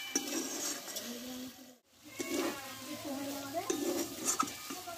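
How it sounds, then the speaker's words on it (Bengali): A pan of potato and eggplant curry with spices is stirred, with clinking utensil scrapes against the pan and a soft sizzle underneath, recurring in short bursts while someone talks. "দেখো মশলা দিয়ে ভালোভাবে আলু বেগুনটা আমি কষে নিয়েছি।"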